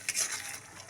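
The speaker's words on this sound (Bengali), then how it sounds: "মশলাটা আমি এভাবে কষে নেব একটু" Masala of ground coriander and cumin frying in a pan for a vegetarian cauliflower and potato curry, a soft close sizzle with scraping stir strokes, no voices.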